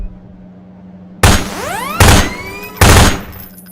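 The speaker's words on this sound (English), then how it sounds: "Now, take out the firearm of your choice and shoot the device." Three loud gunshots in Half-Life 2 Episode One, fired at a device, come about a second apart after a quiet hum, each blast followed by a ringing, sweeping metallic decay; no voices.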